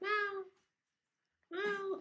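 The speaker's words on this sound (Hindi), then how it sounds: "दीदी ने ना एक छोटी सी बिल्ली रखी है" A small cat meows twice, two clear drawn-out calls about a second apart with silence between them, close and moderately loud.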